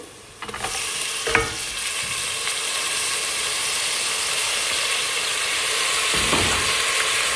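Chopped tomatoes added to a hot pan and frying for a mini thali meal, a steady loud sizzle that begins abruptly and holds, with a few clinks and scrapes of stirring.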